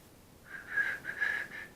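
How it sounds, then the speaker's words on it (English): A failed attempt to whistle: breathy, airy puffs with only a faint wavering tone, several short blows in a row, close and quiet with no talking. "I cannot whistle."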